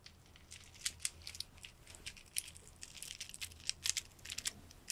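Plastic decorative grapes made to look like glass are handled close up in a quiet setting, giving soft, irregular clicks and light crinkly taps scattered through the whole stretch.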